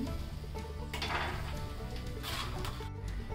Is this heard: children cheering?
no